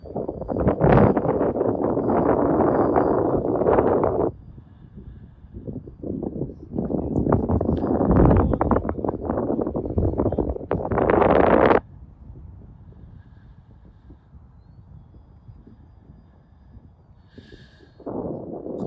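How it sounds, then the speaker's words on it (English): Wind gusting across an open RC plane flying field, loud broadband rumble buffeting the microphone in surges, dropping to a quieter lull before picking up again near the end. "Wind's blowing it around quite a bit."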